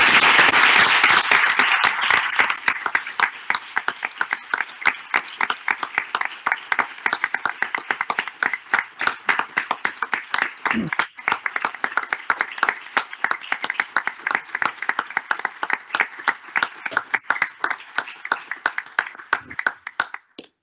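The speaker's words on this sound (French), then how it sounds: "Mesdames, messieurs, c'est ici qu'on applaudit." An audience applauds at a doctoral thesis defence, loud dense clapping that starts strong and carries on steadily for about twenty seconds, thinning slightly toward the end, with no talk.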